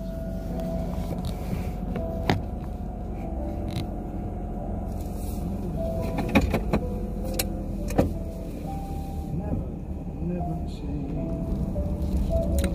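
A camper van drives along with a steady low engine and road rumble, plus occasional rattles and clunks from inside the cabin.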